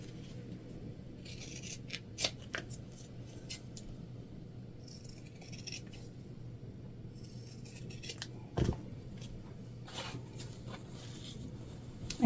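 Scissors snip through fabric for a beginner-friendly Alexia wristlet purse, a few quiet, brief cuts spaced out over a low steady room hum, with a sharper clip near the end.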